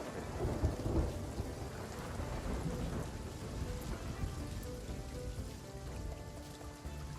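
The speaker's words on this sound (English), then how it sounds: "I'm fucking struck by lightning" Thunder from a lightning strike rumbles in the Sea of Thieves video game, low and heavy beneath steady rain pattering on surfaces. The whole storm stays fairly quiet and constant, with no clear voices over it.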